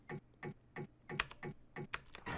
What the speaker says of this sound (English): I pressed the key and nothing happened